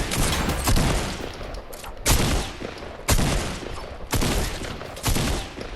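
Bursts of gunfire in the Fortnite video game, a rapid volley at the start followed by several sharp shots spaced about a second apart, loud and close with no talk.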